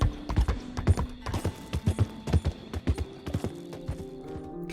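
A horse's hooves clip-clop at a slow riding pace, steady rhythmic knocks close by, with a faint sustained tone underneath.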